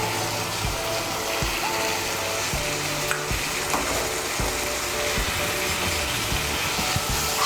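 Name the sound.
spice masala being stirred and sautéed for chickpea ghugni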